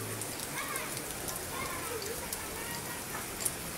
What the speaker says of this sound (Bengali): এখন পানিও ঘোলা, বৃষ্টি হচ্ছে